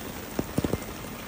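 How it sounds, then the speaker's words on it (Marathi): Heavy rain pours steadily in a broad wash, with a few louder drops pattering sharply on a nearby surface. "तेव्हा पण बघा किती जोरात पाऊस चालू आहे."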